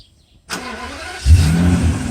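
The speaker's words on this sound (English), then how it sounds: "engine starts, doors relock, that's a normal thing." After a brief click, a 1995 Mercedes SL600's engine cranks and catches by remote start, then settles into a steady running hum nearby.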